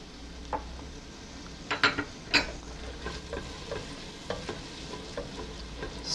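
Onions cooking in melted butter for a velouté soup: a quiet steady sizzle with scattered spoon-scrapes and clicks against the pan as they are stirred, no voice.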